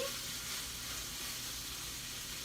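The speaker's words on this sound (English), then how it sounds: "I'm starting to get a nice sizzle on my bacon." Bacon sizzles in a frying pan, a steady crackling hiss that stays close and even for a couple of seconds with no voices.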